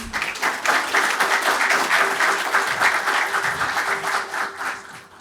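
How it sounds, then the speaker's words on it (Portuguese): A conference audience claps to welcome a professor onto the stage at an innovation event, a sustained, fairly loud burst of many hands with a faint steady hum beneath, swelling slightly and then easing off over about five seconds. "me ajudem a receber, com uma forte salva de palmas, o professor Mauro Sarmento"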